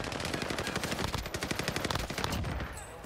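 Rapid automatic gunfire crackles in a fast, continuous burst in Call of Duty Warzone, loud and close, tapering slightly at the end.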